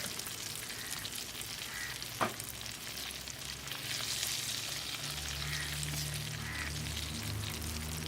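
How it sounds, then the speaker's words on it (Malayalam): Steady, loud sizzle of chicken pieces deep-frying in hot oil for Kerala fried chicken biryani, continuous throughout with a single sharp clink partway through. "ഇതുപോലെ നമുക്ക് ബാക്കിയിരിക്കുന്ന ചിക്കനും കൂടെ വറുത്തെടുക്കാം"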